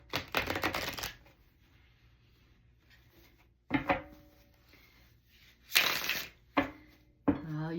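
Tarot cards shuffled in a handful of brisk riffling bursts, separated by quiet pauses, close and moderately loud, with no voices.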